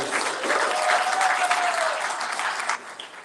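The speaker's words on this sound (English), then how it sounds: "Let's give him another round of applause." An audience at a spiritual gathering applauds Matthew with a full burst of clapping that swells and then tapers off near the end.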